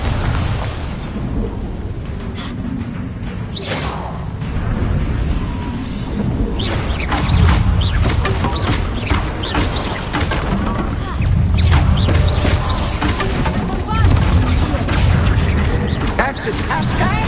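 A Bombarda blasting spell in Hogwarts Legacy sets off loud, rumbling explosions and crashing debris, with mechanical clatter and booms swelling and fading over a long stretch, and voices heard now and then.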